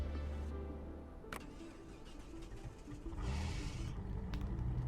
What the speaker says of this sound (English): Start the engine back up.